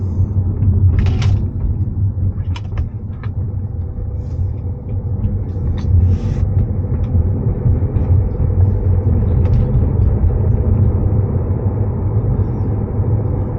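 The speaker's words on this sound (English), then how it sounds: "going to go for a drive in the GLA" A 2018 Mercedes-Benz GLA 220d diesel pulling away, heard from inside the cabin as a continuous low engine and road rumble, steady and fairly loud, with a few light knocks and clicks over it.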